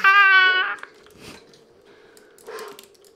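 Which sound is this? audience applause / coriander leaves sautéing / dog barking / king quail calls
dog barking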